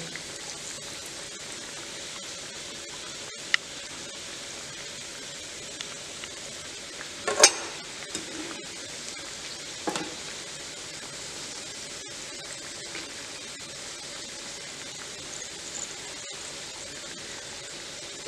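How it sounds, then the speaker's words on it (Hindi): Gujiya frying slowly in lightly heated oil in a kadai over low gas, a soft, continuous sizzle with a few sharp clinks and bumps of utensils partway through, no voices. "अब हम इसको फ्राई करेंगे इसको हम डाल देंगे अपनी कढ़ाई में"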